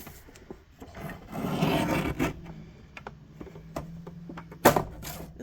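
A blade draws through a cardboard box held flat beneath something, giving a continuous rasping scrape that swells in the middle and ends with a sharp crack-like snap near the end.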